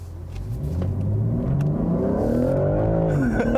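A 2021 BMW M3 Competition engine revs hard while the car drifts, rising and falling through a loud, close, sustained growl with a climbing pitch and a brief dip near the end.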